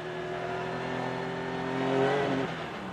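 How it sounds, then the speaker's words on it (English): A race car engine at the 2015 Petit Le Mans climbs steadily in pitch as the driver gets on the throttle, then dips sharply near the end as he lifts, loud and close with no voices. "Oh, I tell you what, Brian, you heard him get on the gas, just gas it a bit in the middle"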